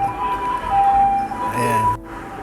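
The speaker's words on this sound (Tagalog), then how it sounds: "May mga ambulansya pa, baka kayo naririnig." An ambulance siren wails outside a kitchen during cooking, a steady tone that holds briefly before fading out.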